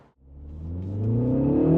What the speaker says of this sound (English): That JCW exhaust, kind of a little poppy almost.